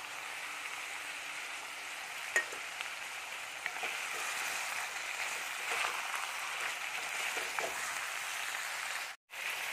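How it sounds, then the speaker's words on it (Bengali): Spices sizzle in a hot pan of meat with snake gourd, a steady close hiss with a sharp click early on and a brief drop near the end. "আমি এর মধ্যে মশলাগুলো সব ফেলে দিচ্ছি"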